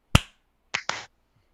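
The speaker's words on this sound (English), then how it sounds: "We're going to do a sync clap, and it's going to be 1, 2, 3 clap." A single sharp sync clap for a podcast recording, then two quick follow-up claps close together, crisp and near in a quiet room.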